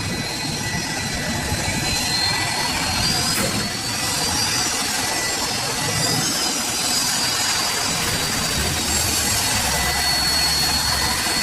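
Boeing 737 jet engines roar during a U-turn on a runway after landing, a loud, close, continuous whine over a deep rumble that holds steady throughout, with no talking.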